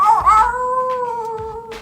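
A human voice imitates a wolf howl at night, a single long sustained wavering howl that is loud and close, standing alone without other sounds.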